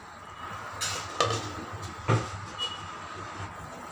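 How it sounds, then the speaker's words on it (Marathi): A metal lid is set down on a cooking pot of simmering Maharashtrian fresh val bean curry, with a couple of sharp clanks and lighter clatters in a quiet kitchen. "त्यावर झाकण ठेवूया आपण।"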